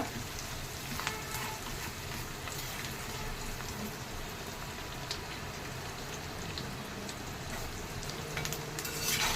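Curry leaves crackling and spluttering in hot oil for kattu pongali, a dense steady sizzle with scattered sharp pops throughout, fairly close and with no talk.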